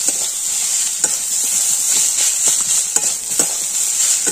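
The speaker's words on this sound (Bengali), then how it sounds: "দিয়ে এটাকে আমি ভালো করে নাড়িয়ে দেবো।" A spoon stirs chilli, garlic paste, ginger paste, cashew paste and chopped onion in a hot pan, giving repeated scraping strokes over a steady bright sizzle, close and fairly loud.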